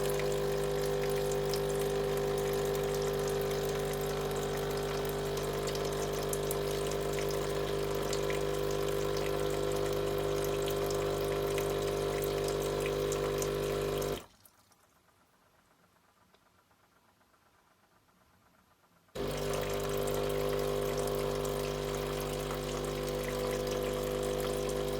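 A Sage Breville Barista Pro espresso machine dispensing hot water during descaling, a loud steady pump hum with running water that halts for several seconds midway before starting up again.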